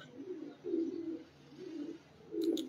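Pigeons coo softly in three low, rolling phrases spaced about a second apart, faint and fairly close, with a brief higher chirp near the end.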